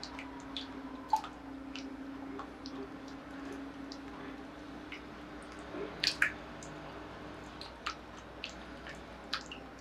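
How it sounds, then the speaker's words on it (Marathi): Tomato and carrot pulp pressed through a kitchen sieve, soft wet squishes and faint drips scattered irregularly over a quiet room background, with a few sharper squelches midway. "केवळ पल्प जो आहे तोच फक्त चाळणीतनं आपल्याला गाळता येतो"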